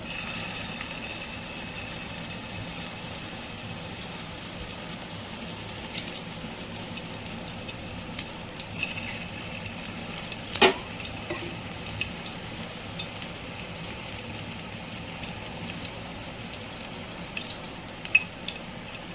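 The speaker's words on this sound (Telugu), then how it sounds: "ఆయిల్ హీట్ అయింది ఫ్రెండ్స్, ఇందులో వేస్తున్నా" Chicken keema balls sizzle steadily in hot oil, a continuous frying hiss with occasional pops and faint stirring, close and fairly loud with no talking.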